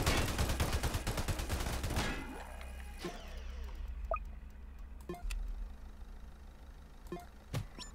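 Minigunner towers in the Roblox Tower Defense video game fire in a rapid, dense rattling burst that stops after about two seconds, followed by scattered sharp single shots and clicks.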